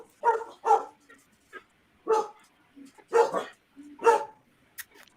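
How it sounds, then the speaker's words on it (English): A dog barks in short separate bursts, about half a dozen over a few seconds at moderate distance, with quiet gaps between them. "Is that your dog off now, Jerry?"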